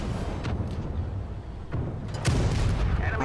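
Tank cannon shots in World of Tanks Blitz, with heavy booming blasts landing around one and three-quarter seconds and again near two and a quarter seconds over steady low battle rumble, the later shot louder and longer.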